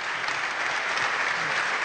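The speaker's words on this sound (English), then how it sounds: "Ladies and gentlemen, let's give a round of applause to Joe Klein." A brief burst of steady crowd clapping for a political journalist at a 2011 election event, dense and even from start to finish with no voices over it.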